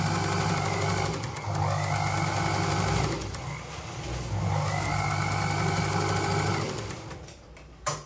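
A zigzag sewing machine stitches a saree border in two steady runs of whirring, rapid mechanical chatter, each lasting a few seconds, with a brief pause between them, close and fairly loud, with no talking.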